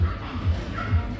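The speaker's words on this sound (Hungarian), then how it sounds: "Ma isszuk a frissítőt, és ott van a sok kutya." Dogs at a lakeside dog beach on Lake Balaton near Keszthely, giving a few low, muffled barks in quick succession at a moderate distance over steady outdoor background noise.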